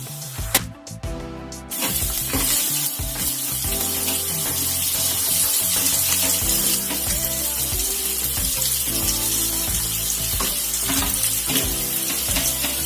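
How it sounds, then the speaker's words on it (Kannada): Onions frying in a pan for chana masala give a loud, continuous close-up sizzle with bursts of stirring and scraping throughout, preceded by a brief clatter at the start. "ಆನಿಯನ್ ಚೆನ್ನಾಗಿ ಫ್ರೈ ಆದ ನಂತರ"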